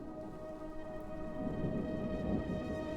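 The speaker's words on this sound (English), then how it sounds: "Some thunder, which I'm gonna just turn down" A thunder atmosphere sample used in a liquid drum and bass track, heard as a low, steady rumble with rain-like hiss beneath a sustained tonal pad, turned down fairly quiet and swelling slightly midway.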